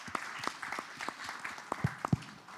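An audience at a live webinar research forum claps for a speaker being introduced, scattered, thin handclaps with distinct individual slaps rather than a dense roar, fairly faint and slightly distant.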